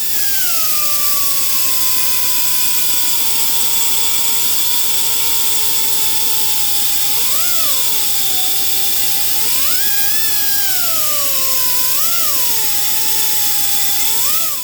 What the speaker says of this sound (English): As you saw me going with the die grinder there